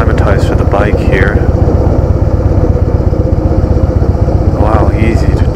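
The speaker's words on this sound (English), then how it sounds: "this is the 2016 Harley Davidson Softail Deluxe" A 2016 Harley Davidson Softail Deluxe rumbles on a test ride in South San Francisco, its low, steady V-twin thump close and continuous, with a few faint chirps over it and no words spoken.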